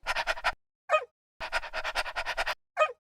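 Dog next door making short breathy bursts in two rapid runs, with a few brief whimper-like calls between them, close and fairly loud with no voices.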